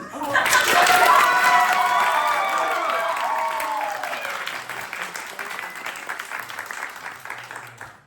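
A theatre audience at a performance of Hamilton in Vancouver bursts into loud, dense applause that swells quickly, then slowly thins, with scattered whoops and cheers mixed in.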